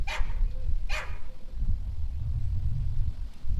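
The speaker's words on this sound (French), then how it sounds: "Il y a le petit chien cabois." A small dog barks twice in quick succession near the start, fairly close, followed by ongoing low outdoor rumble and background noise.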